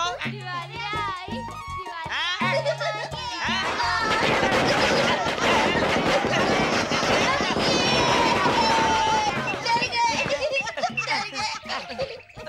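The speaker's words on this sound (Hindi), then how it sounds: "ये क्या पटाखे चला रहे हो?" Crackling bursts of firecrackers popping in a dense, noisy stretch, mixed with children shouting and laughing, with voices talking before and after.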